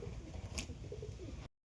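Household pigeons, a male and female pair, coo softly and low under steady background noise, with one sharp brief click midway before the sound cuts off.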